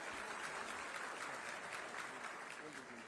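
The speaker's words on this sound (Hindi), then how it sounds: "आप सभी की अनवरत तालियां, शुभकामनाएं मंच तक।" Steady applause from an audience at a government appointment-letter ceremony, dense, even clapping that carries on without pause, with a faint voice underneath.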